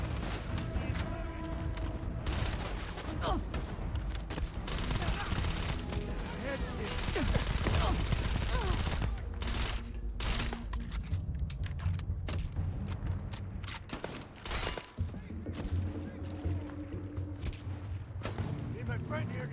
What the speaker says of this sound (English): Just shoot everything!